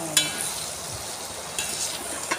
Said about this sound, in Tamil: இது கொஞ்சம் அடி பிடிச்சிடக்கூடாது, அதனால தான் இப்படி கிண்டிக்கணும்